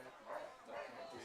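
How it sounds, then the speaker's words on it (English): At a high school baseball game, a dog barks twice in quick succession as a foul ball comes its way; the barks are close and clear, with voices talking underneath. "Ball Dog lets everyone know that there's a foul ball coming in that direction"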